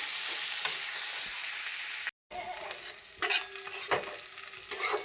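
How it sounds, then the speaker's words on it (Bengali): Chopped green chilli, onion and garlic sizzle in hot oil in a pan, a steady crackling frying hiss broken by a brief silence, then resuming with stirring scrapes and clinks of a utensil against the pan. "এবার দিয়ে দেবো লঙ্কা কুচি, পেঁয়াজ কুচি, রসুন কুচি, এগুলো সব দিয়ে দেবো। এগুলোকে ভেজে নেবো লাল লাল করে।"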